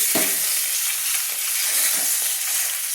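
A fish head fries in hot oil as a spatula presses down to break it apart for a leafy greens curry. A steady close sizzle carries soft scraping and crackling bursts throughout.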